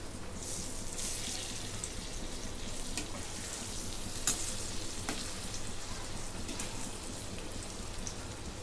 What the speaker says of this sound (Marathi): आता मध्यम गॅसवरती तळून घेते